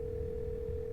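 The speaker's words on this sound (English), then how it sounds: "You can hear something drop violently on the other end, and then dial tone." A telephone dial tone in the horror game Scarlet Hollow, one steady unbroken tone held evenly over a low background hum, with no voices.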